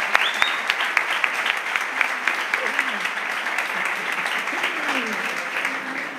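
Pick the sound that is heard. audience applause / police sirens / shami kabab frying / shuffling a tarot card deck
audience applause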